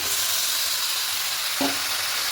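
Steady, loud sizzling of chopped malabar spinach frying in a pan for lentil curry, a constant hiss with a brief clink near the middle.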